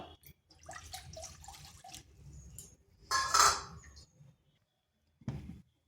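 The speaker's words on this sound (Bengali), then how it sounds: "এখানে দিচ্ছি 1 বাটি জল" A bowl of water is poured into a cooking pot while making suji chusi pitha: soft kitchen clatter, then a brief, brighter splashing pour, followed by a short clunk of the vessel.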